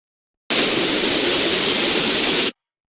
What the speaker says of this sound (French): Passons maintenant à créer le bruit blanc.